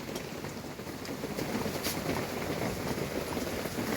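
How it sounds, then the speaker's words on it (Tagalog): Dense, steady rain patters hard on a surface, a constant hiss with scattered louder drops and no voices. "Sobrang malakas kasi ulan."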